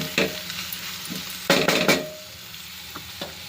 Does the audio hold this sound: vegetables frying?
yes